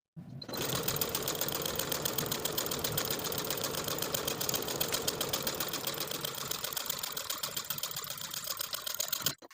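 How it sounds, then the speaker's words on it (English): A sewing machine topstitches the finished edge of a blouse sleeve with a 1 inch seam allowance, running steadily and loud for several seconds in a dense, even buzz before stopping abruptly. "Now we're going to top stitch that finished edge of the sleeve from one side to the other with a 1 inch seam allowance"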